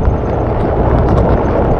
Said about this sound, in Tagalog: Uy, yun na hangin.